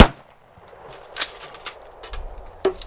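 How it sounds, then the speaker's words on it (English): AR-15 rifle chambered in 5.56 and fitted with a flash and acoustic dampening chamber, firing at an outdoor range: a sharp opening report followed by a few scattered, quieter cracks and clanks spread over a couple of seconds. "This is an AR-15 with a flash and acoustic dampening chamber attached to it."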